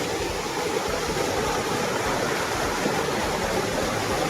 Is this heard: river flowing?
yes